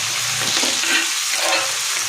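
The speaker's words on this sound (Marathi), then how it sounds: "त्याच्यानंतर टोमॅटो टाकून घ्यायचे छान." Tomatoes are tossed into a pan of frying onions for a spicy shengole dish, producing a loud, continuous sizzle and crackle.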